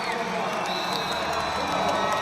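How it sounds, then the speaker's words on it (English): A home crowd at a college volleyball match between Stanford and Arizona State cheers and whoops loudly in an arena after a set-winning point, with commentary audible beneath. "the home crowd loves it"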